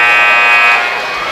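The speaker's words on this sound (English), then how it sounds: "That's the buzzer." A loud, sustained electronic buzzer sounds at a high school basketball game between the Spartans and the Franklin County Wildcats. It holds one steady, harsh tone for about a second, then eases slightly lower as it trails off.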